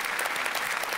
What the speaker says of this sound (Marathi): जोरदार टाळ्या पोस्टमन काकांसाठी